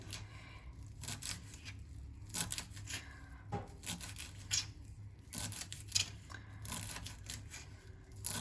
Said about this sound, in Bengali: এবার আমি কিন্তু ঝিরিঝিরি করে কেটে নেবো ধনেপাতাগুলোকে